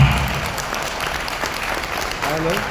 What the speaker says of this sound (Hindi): मैं चाहूंगा सर के लिए जोरदार तालियां।